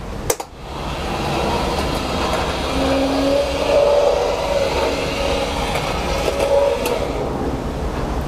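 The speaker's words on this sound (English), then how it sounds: "if the button is pressed while the train is moving" A small N scale model train hums along steadily on a shelf layout with a low continuous rumble and faint whirring tones rising and fading, no voices.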